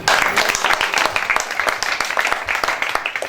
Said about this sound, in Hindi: ताली बजाकर धन्यवाद।